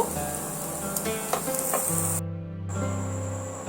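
Chopped egg pieces fry in a hot pan with a continuous bright sizzle under a low steady hum, a few scraping stirs, then a brief cut-out before the hiss resumes.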